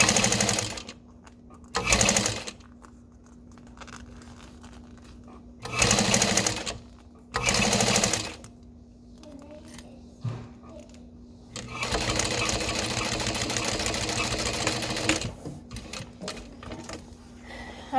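Sewing machine stitching a vinyl strap: several short bursts of rapid mechanical chattering, then one long steady run of stitching, with a low constant motor hum and quiet handling sounds between.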